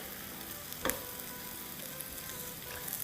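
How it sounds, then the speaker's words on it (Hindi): Vegetables sauté in hot oil with a constant soft sizzle and a single brief clink or stir early on, fairly quiet and steady, with no voices. "तो ये डाल देंगे ऑयल में और इसको सौटे होने देंगे"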